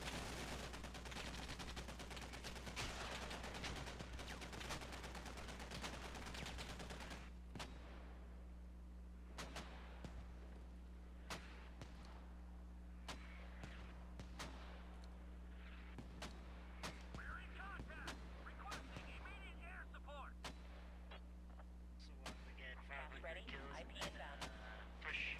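Mortar rounds fire and land in a Squad match, producing repeated sharp distant booms over a steady low battlefield rumble, with voices talking throughout.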